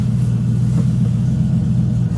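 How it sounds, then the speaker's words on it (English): A TVR sports car engine, suffering an electrical fault after a breakdown, runs with a steady close rumble and a slight swell in revs, with no one speaking. "when you rev the engine"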